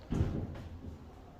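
Otis traction elevator doors sliding slowly at the West Tower of the Luxor in Las Vegas: a soft thump, then a low, muffled rumble of the panels gliding that fades out, quiet and close.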